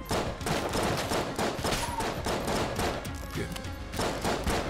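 Dense, relentless bursts of rapid gunfire from snipers in the video game Enter the Gungeon crackle loudly and continuously, shots overlapping with no pauses.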